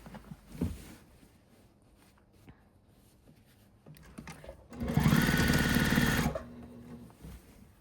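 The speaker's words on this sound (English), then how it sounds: "leave the needle down, turn, sew, and let's fold it back" A sewing machine stitches binding in a short burst of about a second and a half, a fast loud motor whir, preceded by quiet handling and fabric rustles.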